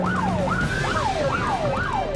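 A police car siren yelps in rapid repeated falling sweeps, loud and close, over a low rumble of road traffic during a chase after a moped.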